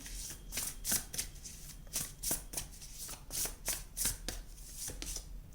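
Tarot cards being shuffled and drawn by hand, a quick series of crisp riffling and slapping bursts in an irregular rhythm, close and clear with no talk.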